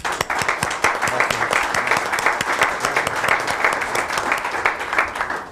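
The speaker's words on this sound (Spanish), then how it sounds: "un caluroso aplauso." A room of attendees at a parliamentary debate panel on energy reform gives a guest warm, sustained applause, with many hands clapping densely and evenly throughout.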